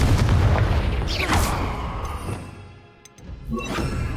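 A Confringo blasting spell detonates in Hogwarts Legacy, a loud booming explosion with a crashing burst and rumbling debris that dies away, then a second impact rises near the end.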